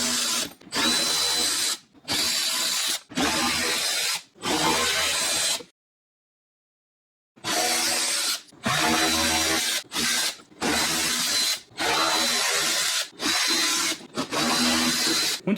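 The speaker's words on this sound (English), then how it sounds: "removing these screws on the wheel well liner" A power driver backs T15 screws out of the wheel well liner on a 2015-2022 GMC Canyon / Chevy Colorado, in a series of loud, close whirring bursts of about a second each, broken by one longer pause midway.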